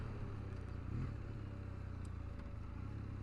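A Kawasaki W800 motorcycle engine drones low and steady while engine braking, a faint, even rumble with no clear revs.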